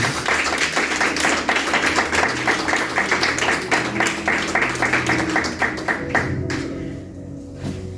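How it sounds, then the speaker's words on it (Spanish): A church congregation gives loud, sustained applause with a steady patter of many hands, mixed with some tonal music underneath, tapering off toward the end. "Denle un fuerte aplauso al Señor"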